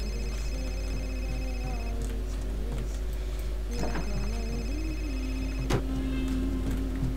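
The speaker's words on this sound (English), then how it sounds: "Okay, where is the phone?" A telephone rings in the video game Indigo Prophecy, with repeated electronic ring bursts over a steady low hum and faint game ambience.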